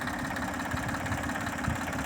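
A Dongfeng 244 tractor engine runs steadily while driving a 1.5-metre rotary tiller through clumpy clay soil on a hillside field, a continuous, fairly faint mid-range drone with no talk.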